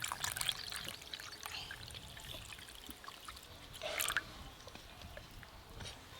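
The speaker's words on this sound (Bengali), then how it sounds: "সুজিটা প্রথমে জল দিয়ে ভিজিয়ে দেব।" Water pours onto semolina in a bowl to soak it, a faint, uneven trickling and splashing with a brief louder pour midway and no talk.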